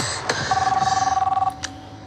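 A telephone rings with a rapid warbling electronic trill lasting about a second, heard over a film soundtrack with faint background sound and a brief click or knock just after.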